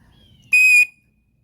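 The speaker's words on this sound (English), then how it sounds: "Wow, that was a loud whistle." A single sharp, piercing blast from a combination whistle and fire starter from a British survival kit, loud and close, lasting about a third of a second against near silence.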